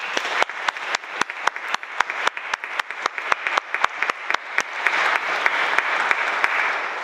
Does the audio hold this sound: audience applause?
yes